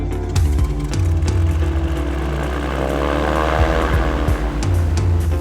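A propeller aircraft engine at an air race drones loudly and steadily nearby, its pitch wavering slightly, with no voices.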